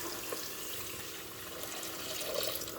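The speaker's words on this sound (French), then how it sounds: "on vient saucer avec de l'eau chaude" Hot water pours into a pan of frying onions for a couscous sauce, giving a steady broadband hiss and gurgle of liquid throughout, with a faint lower sizzle beneath and no talking.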